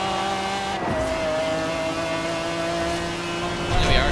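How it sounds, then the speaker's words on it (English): A McLaren F1 engine swapped into a BMW 850CSI in Forza Horizon 4 holds a high, steady racing whine, shifting pitch slightly and rising again near the end, with a voice talking over it. "we have our godly sounding McLaren F1 engine"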